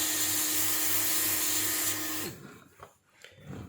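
Heat gun blowing hot air onto an Anker power bank circuit board, a steady loud whirring hiss that cuts off abruptly, followed by faint handling clicks.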